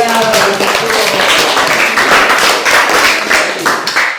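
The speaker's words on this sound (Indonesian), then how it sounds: "Iya, tepuk tangan." Students clap hands in a science classroom, loud close rhythmic claps and taps in a quick, uneven series, with a voice talking over them.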